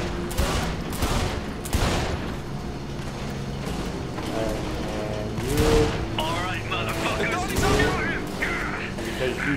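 Gunfire in the video game Saints Row: The Third, repeated shots and bursts spread through a busy mix of game sound with music-like tones and effects.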